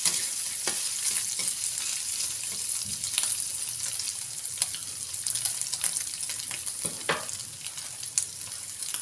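Garlic frying in a pan for kangkong gets a steady close hiss of sizzling oil, with repeated scrapes and clicks of a utensil stirring throughout, with no voices.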